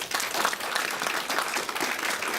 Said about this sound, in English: if you want to clap for somebody, please feel free to do so